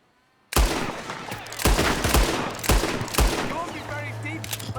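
Gunfire in Red Dead Redemption 2, with several loud, sharp shots cracking out in an uneven burst after a quiet start and a low hum trailing underneath.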